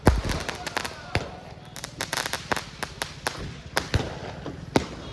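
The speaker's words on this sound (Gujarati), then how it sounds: "ફટાકડા ફૂટે છે ભાઈ અહીં તો" Sharp firecracker bangs pop repeatedly in irregular bursts outside a temple, some loud and close, others fainter, over a busy background with voices murmuring.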